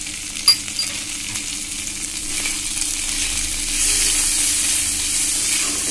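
Chopped tomato and salt frying in a pan of lentil dal with taro, a steady close sizzle that swells louder toward the end, with a single light clink near the start.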